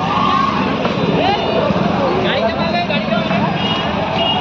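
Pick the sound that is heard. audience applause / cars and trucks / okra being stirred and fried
cars and trucks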